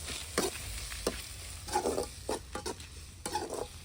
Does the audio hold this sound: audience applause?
no